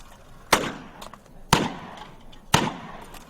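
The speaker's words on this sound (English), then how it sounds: "I'm drawing the gun, shooting, and I'm shooting at different cans, different heights, different angles, different levels" Three sharp revolver shots fired in fast point shooting at cans, evenly spaced about a second apart, each a loud close crack with a short ringing tail.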